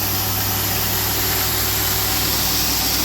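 A farm feed mixer runs while blending compound feed for pigs, giving a loud, steady mechanical drone with constant hum and vibration throughout, no voices.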